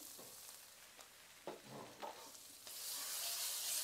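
Sambal pete with shrimp paste stirred in a hot pan, a steady frying sizzle with a few scraping stirs around the middle, the hiss swelling louder near the end.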